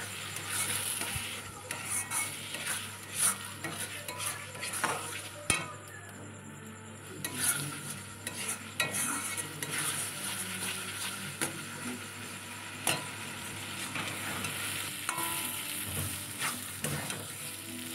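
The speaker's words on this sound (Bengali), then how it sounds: "এইভাবে কড়াইতে নেড়ে গ্যাসটাকে একদম সিমে দিয়ে আস্তে আস্তে করে এটাকে করতে হবে" A spatula stirs pointed gourd mash with turmeric in a wok over low gas heat, scraping and clinking against the pan above a soft, steady sizzle. No talk.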